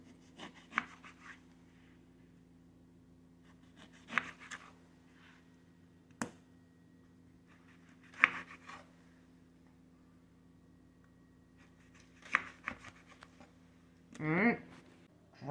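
A knife slicing a small orange into quarters on a cutting board, heard as a few separate soft cuts and taps spread across the clip, close and fairly quiet over a steady low hum, with no talking.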